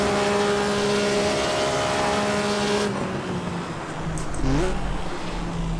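A Maserati 250F racing engine in Assetto Corsa at Monza revs hard toward the red line with a loud rising harmonic howl, then cuts off abruptly into a lower idle rumble with a brief blip and falling tone near the end.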